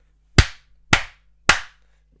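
Three sharp, loud hand claps, evenly spaced about half a second apart, close by and with no other sound around them.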